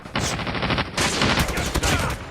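Gunfire in the mobile game Call of Duty Mobile: loud, dense automatic bursts sound close and continuous, with a short break near the one-second mark.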